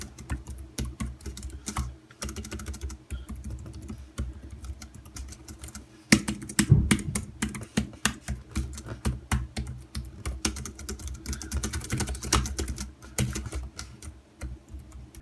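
Steady clicking of keys on a Logitech K380 compact multi-device keyboard, fast continuous typing with a few brief pauses, close and fairly loud, no voices.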